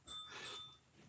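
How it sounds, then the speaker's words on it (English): A bell hung on a front door, struck by a dog, gives one faint, brief bright ring that fades within a second. "one of the dogs just hit the doorbell"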